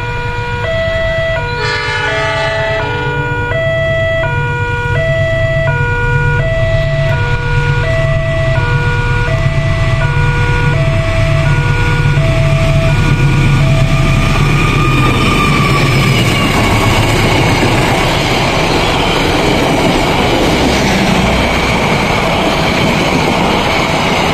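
The KA 160 passenger train passes loudly and close, with a multi-tone horn blaring in repeated steady blasts over heavy rumble, then a roaring rush of wheels and carriages as the train goes by, with no talk.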